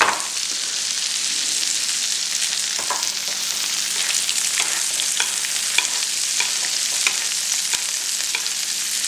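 Steak sizzles steadily in a pan of foaming butter, giving off a continuous close hiss broken by small spits and pops.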